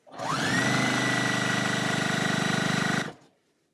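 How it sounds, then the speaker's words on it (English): A sewing machine runs steadily for about three seconds, stitching white quilt sashing with black and white check cornerstones for a Christmas quilt, a loud continuous motor whir with a rapid needle rhythm that starts and stops abruptly. "Sewing white sashing with black and white check cornerstones for Christmas."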